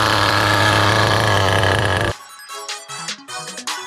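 A vintage HPI RS4 Porsche nitro RC car engine runs loud and steady for about two seconds, then drops to a rough, sputtering idle with uneven pulses.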